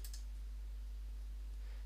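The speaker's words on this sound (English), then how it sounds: "Now press home on your keyboard and then select a point that you want to move it from." A single key press on a computer keyboard gives a brief, faint click right at the start, followed by near silence in a quiet room.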